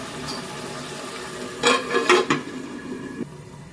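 A metal lid is set onto a cooking pot of sambar dal with drumstick and eggplant, giving a short cluster of close clanks and scrapes against a quiet kitchen background.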